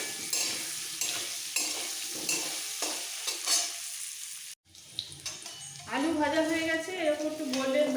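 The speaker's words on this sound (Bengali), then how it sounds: "লাল করে আলুগুলো ভেজে নিতে হবে" Potato pieces fried in oil with turmeric are stirred with scraping strokes over a steady sizzle, followed by a running tap and louder pan noise near the end.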